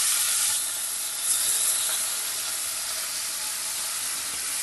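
Chopped onion dropped into hot oil with cumin gives a loud, steady, broadband sizzling hiss that holds unbroken throughout, with no voices.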